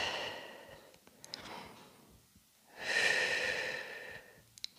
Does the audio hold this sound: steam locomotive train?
no